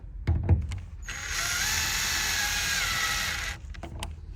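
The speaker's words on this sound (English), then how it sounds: "we're going to finish installing them with this driver that's equipped with a 4 inch-pound torque limiter" A power driver fitted with a 4 inch-pound torque limiter runs a tension anchor screw in a steady whine for about two and a half seconds until it stalls, with clicks and handling noises before and after.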